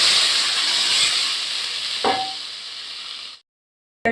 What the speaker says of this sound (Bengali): আলুটা ভাজা হয়ে গেছে এবার এতে আমি ঝোল দিয়ে দিচ্ছি